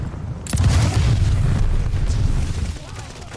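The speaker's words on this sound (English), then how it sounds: "I threw a grenade down there." A grenade explodes in a video game, a loud sharp burst followed by a few seconds of heavy rumbling, close and filling the scene.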